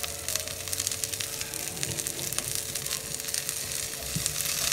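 Chopped cabbage and onion fry in a pan with a steady, moderately quiet sizzle and soft crackle, close by and alone, with faint occasional stirring.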